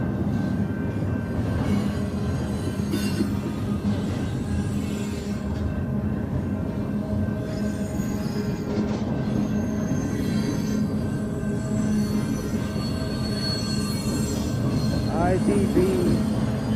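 A westbound Union Pacific freight train rolls past at night in West Sacramento, a steady loud rumble of rail cars with faint wheel squeal, continuing unbroken throughout.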